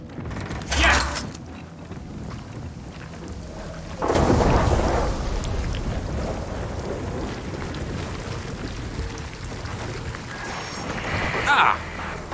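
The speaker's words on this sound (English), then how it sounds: "And now it's raining." Rain hisses steadily throughout, with a loud rumbling thunderclap partway through and a few sharp mechanical clicks and creaks nearby, in the video game Gears of War 4 on Xbox.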